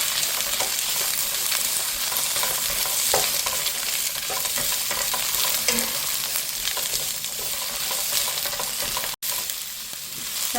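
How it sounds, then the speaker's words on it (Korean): Sundae (Korean blood sausage) and cabbage stir-fry in a pan, with a steady loud sizzle and the scraping of stirring throughout and a brief break near the end. "제가 비슷한 크기로 잘랐기 때문에 같이 넣고 이렇게 볶아보도록 할게요."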